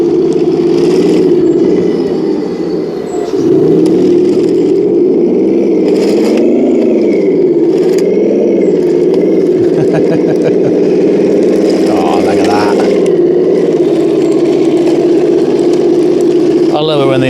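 A remote-control King Tiger tank model drives on metal tracks, giving a loud, steady motor whine that rises and falls as it moves, with rattling track clatter and someone talking now and then.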